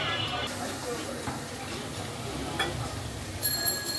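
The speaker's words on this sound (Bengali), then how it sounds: "আমি পুরো বেসনের ব্যাটারটা দিয়ে আমি এইভাবে ভেজে নিতেছি।" Gram flour (besan) batter frying in a pan gives a steady, continuous sizzle and hiss with a few faint ticks, heard close and throughout without any talk.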